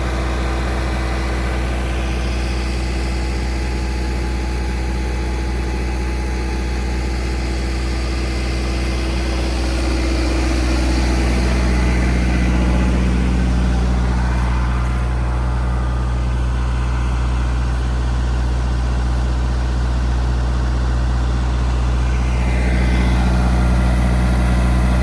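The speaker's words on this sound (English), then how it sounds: "You get to listen to a John Deere" A John Deere utility vehicle engine runs close by, a loud, steady low-pitched idle with a constant hum that shifts slightly in pitch midway and stays alone without any voices.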